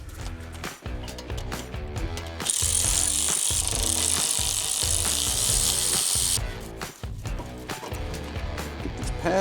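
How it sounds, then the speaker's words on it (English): Ratchet wrench loosening a wheel bearing bolt on a Land Rover LR3/LR4 or Range Rover Sport, with close, loud, rhythmic clicking strokes repeated throughout and a continuous high whir in the middle. "Got to get a wrench in there real quick."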